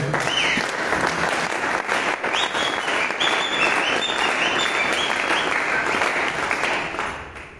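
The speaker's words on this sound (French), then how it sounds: "Est-ce qu'on peut acclamer le Seigneur?" Audience at a Christian youth conference breaks into loud, sustained applause for the Lord, dense clapping from many hands filling the hall for several seconds before tapering off.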